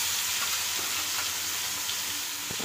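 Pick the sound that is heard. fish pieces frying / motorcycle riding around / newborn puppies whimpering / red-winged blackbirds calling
fish pieces frying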